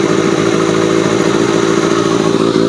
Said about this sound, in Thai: มาดูฟังเสียงรอบเดินเบา